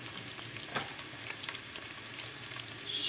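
Browned meat fries in a pan as tomato paste and pepper paste are stirred in for a chickpea and meat stew, giving a steady, close hiss of sizzling with faint scraping strokes throughout.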